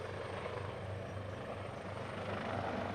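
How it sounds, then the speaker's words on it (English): A helicopter comes in to land at an outdoor community event, its rotor producing a steady, loud, throbbing chop that holds throughout three seconds, with no talk. "And the helicopter is coming in for a landing."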